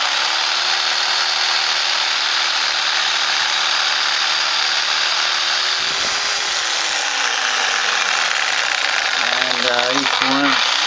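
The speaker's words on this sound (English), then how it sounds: "this time I'll try to cut it a little thinner with that Sawzall" A Sawzall reciprocating saw cuts through a suspension part on a 1968 AMX, loud and close, the motor's pitch sagging as the blade bites, then stopping before a few short bursts of cutting.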